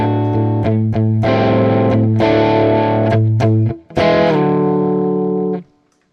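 A verse riff on a distorted electric guitar: choppy muted chord hits with a sustained low note, a short gap, then a final chord held for over a second before cutting off. Close, loud and alone.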